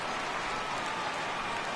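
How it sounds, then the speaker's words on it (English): Heavy rain pours steadily during a baseball game in MLB The Show 17, a dense continuous hiss with no gaps. "Well, the rain is coming down hard here."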